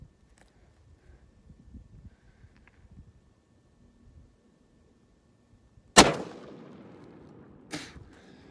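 A Christensen Arms Classic rifle chambered in 300 RUM fires one loud, sharp shot outdoors, followed by a short decaying echo and a second fainter crack about two seconds later, after a quiet stretch of low rustling.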